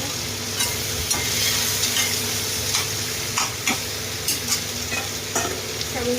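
Green chillies and ginger fry in a pan and are stirred, a steady sizzle broken by repeated scraping strokes of the spoon at an irregular pace, no voices.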